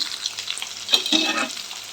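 Curry leaves and turmeric hit hot oil for a potato gravy, giving a soft, steady sizzle with a brief burst of stirring scrapes in the middle.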